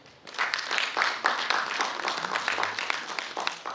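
Brief burst of audience clapping at a stage event, rising quickly and holding steady for a few seconds of lively, close applause.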